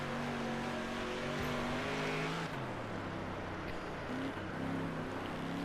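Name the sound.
street stock race car engine in Dirt Racing video game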